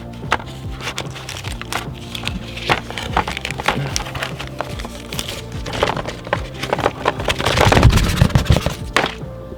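Plastic packaging crinkles and snaps as a new gasket for a 450whp Genesis is pulled free one-handed, a dense run of crackles and sharp pops peaking into a louder rustle near the end.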